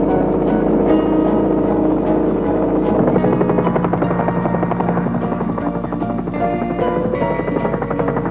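A helicopter flies overhead in the Papua mountain jungle, its rotor chopping and turbine whine loud and steady throughout, with a rhythmic beating pulse and no speech.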